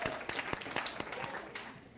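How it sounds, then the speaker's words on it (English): Scattered applause from a small workshop group at a lunch talk, a handful of separate claps ringing out over a low murmur of room noise for a couple of seconds. "Let's give Kayla's group a round of applause."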